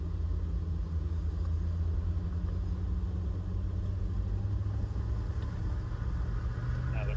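A C4 Corvette engine pulling in second gear, a low steady rumble heard from inside the car, continuous and moderately loud without a clear rise in pitch.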